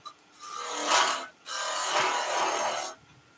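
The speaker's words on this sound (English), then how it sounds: "We're going to sand these." Two long strokes of sandpaper rasp against wood, a close, even scratching sound with a short pause between them.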